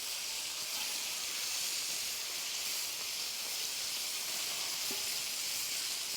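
Food searing on a very hot grill at about 600 to 650 degrees, with ribeye and shrimp cooking: a dense, even sizzling hiss, steady and close, with no talk over it.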